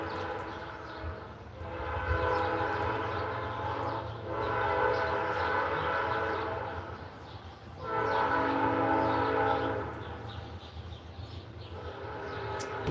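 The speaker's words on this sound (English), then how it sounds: "now we're getting another train, the ASMR of it. Let's just listen to it" A train rumbles past at a moderate distance, and its horn sounds in several long blasts separated by short gaps.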